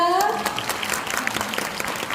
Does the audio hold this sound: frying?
no